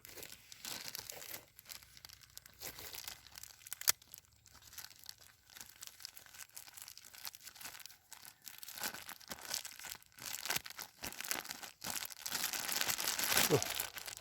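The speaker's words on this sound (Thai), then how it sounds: "นี่เราจะเอาใส่ถุงพลาสติกนะครับ ที่จะผสม" A plastic bag crinkles and rustles in irregular bursts as date palm pollen is put into it, with close, sharp handling sounds throughout.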